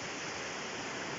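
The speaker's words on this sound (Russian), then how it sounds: "Ну а река вот, получается, мы стоим на устье." A mountain river flows at its mouth beside a fishing camp in the hills of Khakassia and Kuzbass. It makes a faint, even, continuous rush of water with no voices.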